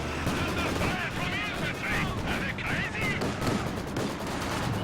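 A ZiS field gun fires repeatedly in Company of Heroes 2, its booming shots landing amid battle noise and Maxim machine-gun fire, while a voice talks over them throughout.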